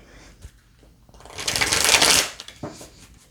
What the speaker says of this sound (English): Shuffle again and cut.